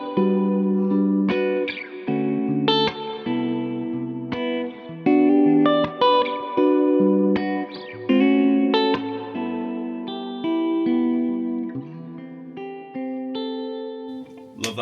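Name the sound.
electric guitar neck and bridge humbuckers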